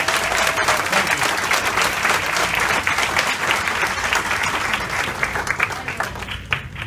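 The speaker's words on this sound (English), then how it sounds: "Let's give them a round of applause and say thank you." Sustained applause from a large audience in a room fills the whole stretch, dense and steady, at a civic ceremony celebrating a new police chief.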